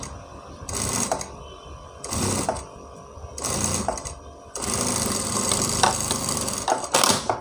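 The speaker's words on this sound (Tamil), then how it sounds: "மடிச்சுட்டு இந்த கீழே வந்து நேராக ஒரு தையலை போடுங்க." A sewing machine stitches a lined blouse in several short, close bursts with brief pauses between them, ending in a longer continuous run.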